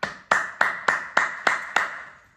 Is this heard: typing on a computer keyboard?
no